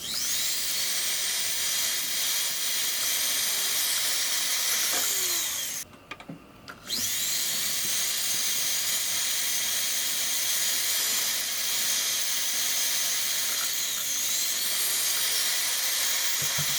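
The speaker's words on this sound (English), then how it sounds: "Now use your radial bristle disc to pre-polish." A radial bristle disc on a rotary tool pre-polishes a silver clasp, giving a steady high hiss and whir that stops briefly for about a second partway through and then resumes.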